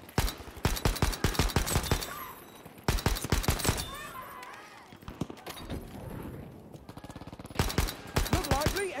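Battlefield V machine gun fire in an underground rush match: loud, rapid bursts of automatic shots in clusters, with quieter pauses of distant crackle and scattered effects between them.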